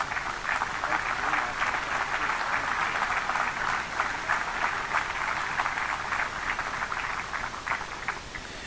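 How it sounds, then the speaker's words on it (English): Steady applause from a crowd at a 4-H purple ribbon livestock auction in Minnesota, dense clapping sustained evenly throughout and tapering slightly at the end. "Let's give a round of applause here."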